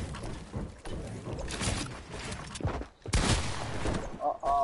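Rapid bursts of gunfire in a one-on-one video game match, loud crackling volleys with short gaps, mixed under excited talking from players.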